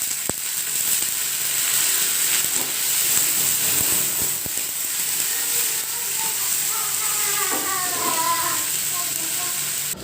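Water spinach (kangkung) stir-frying in a pan, giving a steady loud sizzle and hiss with a few scattered scrapes throughout.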